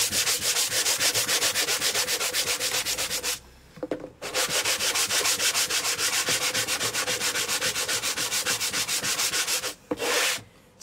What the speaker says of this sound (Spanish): le damos a la lija